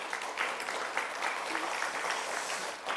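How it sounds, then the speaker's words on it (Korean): Congregation applause fills a church during a pastor's installation service, a steady wash of many hands clapping at moderate volume for about three seconds without a break. "박수하시겠습니다"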